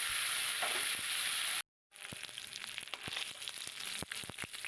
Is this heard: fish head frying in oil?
yes